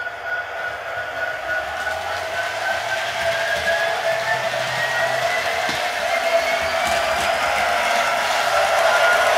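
A Bachmann SD70ACe model locomotive in Savannah and Atlanta livery runs at full speed, giving a steady, loud motor whine with a slowly rising pitch that holds for several seconds.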